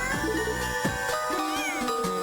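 A cartoonish cat meow rises and bends in pitch over a layered game music bed, one drawn-out call heard up close with no talking.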